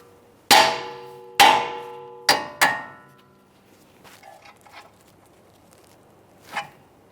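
Hammer blows on the steering knuckle of a Nissan Maxima to free the tie rod end: four sharp ringing metallic strikes in quick succession, then faint clinks and one softer knock, close and loud.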